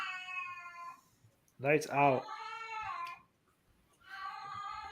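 A cat yowling and meowing in drawn-out, rising cries during a live UFC 274 fight watch-along stream, the loud wails broken by short pauses while someone briefly speaks.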